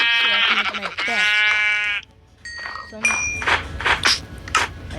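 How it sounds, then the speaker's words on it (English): Sheep in a video game bleat loudly and up close in two long, wavering cries, followed by lighter game chimes and clinks. "Now I gotta kill some sheep to make my bed."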